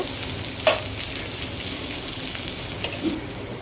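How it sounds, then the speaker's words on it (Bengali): Potato peels and chickpeas frying in a small amount of oil in a pan, a continuous close sizzle with a couple of brief clicks or taps, no voices. "তো ভালো করে এটাকে ভেজে নেব, অল্প তেলে ভেজে নেব, বেশি তেল দিব না।"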